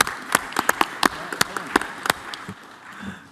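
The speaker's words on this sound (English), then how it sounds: "I think we give a round of applause to our intern manager and city." Applause at a city council meeting for the intern manager, a handful of sparse, distinct claps from a small group in a room, thinning out and fading within a few seconds.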